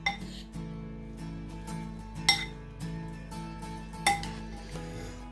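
Utensil clinking and scraping against a bowl while mixing an apple galette batter, with a few sharper clinks among soft stirring, close and moderately quiet, no talking.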